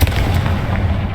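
A Confringo spell in Hogwarts Legacy detonates in a deep, rumbling boom that rolls on for about a second, loud and close.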